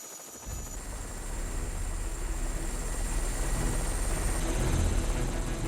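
A helicopter idling on Arctic sea ice in minus-30-degree cold during a Bering Strait crossing, giving a loud, steady, close rotor and engine roar with a thin high whine and no voices.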